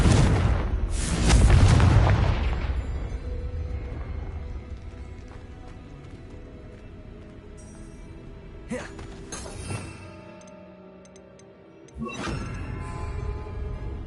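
Confringo fire spell explosion in the Hogwarts Legacy video game, a loud booming blast that fades into a rumbling tail, followed later by fainter whooshes and hits from further spell effects.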